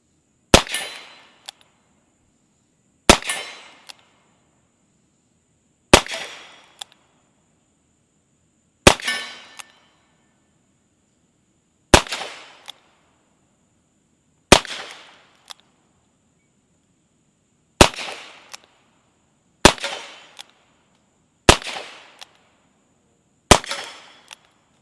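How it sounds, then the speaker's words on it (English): A Ruger GP100 revolver chambered in .22LR fires ten sharp, evenly spaced shots outdoors, each a crisp crack with a short decaying tail, roughly every two to three seconds, with no talking. "Let's go ahead and take some of our final shots with a Ruger GP100."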